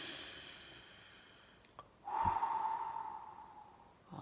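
A single deep inhale through the nose during guided meditation, close and breathy, drawn in over about two seconds after a quiet pause.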